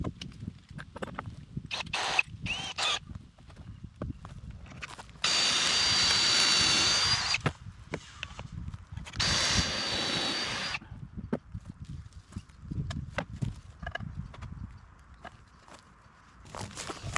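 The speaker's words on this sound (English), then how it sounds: "let me drill the holes and then I'll think about it." A power drill boring pocket holes for a square drop camper build, with two sustained whirring bursts separated by clatter and handling noises of tools and wood in a workshop.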